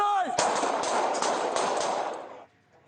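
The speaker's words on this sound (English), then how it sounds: "De Cruz survived the gunshots" A rapid burst of police gunshots rings out in a bodycam recording, several sharp cracks in quick succession over a couple of seconds, then stops abruptly; a voice shouts just before.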